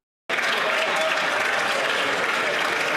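MPs applauding and cheering in the House of Commons, a dense, loud burst of clapping that starts abruptly and holds steady from a large crowd.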